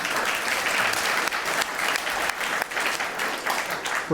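A studio audience at a panel discussion on California politics breaks into applause, a loud, close, continuous roar of clapping hands with slight surges and dips in intensity.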